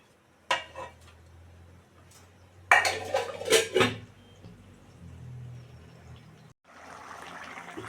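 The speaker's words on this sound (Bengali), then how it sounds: "এবার দিয়ে দেবো ডিমটা" Metal utensils clatter against a cooking pan as eggs are added to a potato curry, with sharp scraping clinks in two bursts followed by a soft sizzle.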